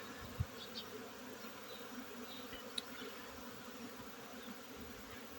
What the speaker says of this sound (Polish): Pszczoły tak się ruszyły, że można siedzieć i słuchać.